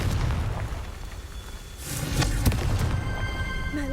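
A Confringo spell explosion in Hogwarts Legacy on PS5, heard as a rumbling boom with a sharp burst and crackling debris over dense game background noise.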